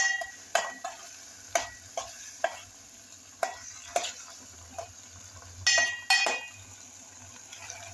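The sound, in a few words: stirring potatoes into a cooking mixture in a pot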